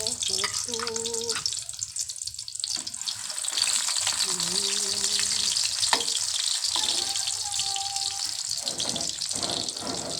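Hotdogs fry in hot cooking oil with a steady, faint crackling sizzle that runs the whole time under a voice talking.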